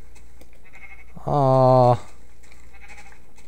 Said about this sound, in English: Let's take a look at these sheep.